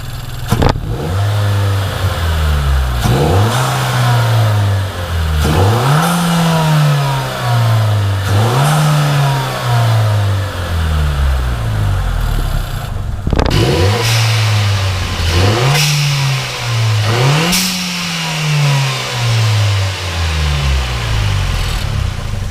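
Nissan Juke Nismo RS engine revving hard over and over, each rev rising and falling in repeated pulls, with a short blow-off valve whoosh as the throttle lifts; loud and close, no voices.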